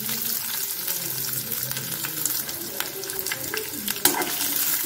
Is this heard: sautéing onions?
yes